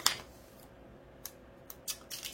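Scissors snip a few times at close range, quiet sharp cuts spaced irregularly over a low background hiss, while diamond painting beads are being organized.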